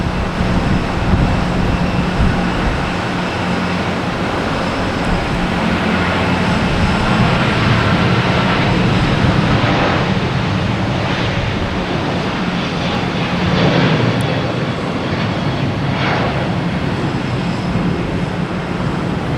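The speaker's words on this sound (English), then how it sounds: "we have the American 777 heading to London" An American Airlines Boeing 777 jet departs Boston Logan at night on a flight to London Heathrow, its engines giving a steady, loud, broadband roar that lasts throughout without letting up.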